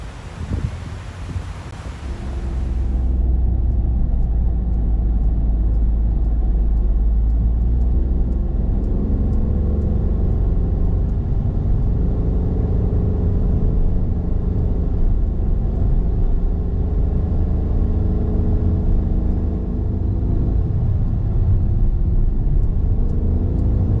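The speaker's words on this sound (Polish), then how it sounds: "Jazda autem po Maderze początkowo sprawiała niepokój, czy auto da radę wjechać pod górę." A car climbing a steep hill road on Madeira, its engine a steady low rumble that holds loud and continuous for about twenty seconds after a brief quieter, windy opening.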